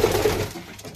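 Pigeons of the green Giribaz type coo close by in a short, soft burst, low murmuring tones fading out toward the end with no voices present.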